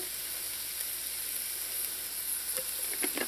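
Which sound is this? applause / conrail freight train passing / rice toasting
rice toasting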